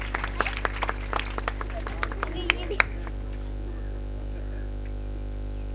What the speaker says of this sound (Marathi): जोरदार टाळ्या होऊ द्या आदरणीय श्री अमित धुरी साहेबांसाठी